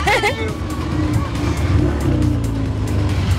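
A rally car pulls away at the start of a charity rally, engine revving and droning steadily up close while people talk over it.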